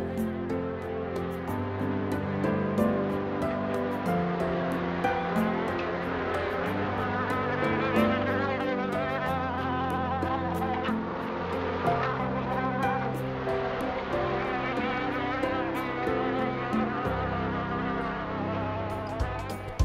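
Honeybees take their first cleansing flight right after their hives are carried out of winter storage, producing a dense, steady buzzing that continues close and loud for the whole stretch.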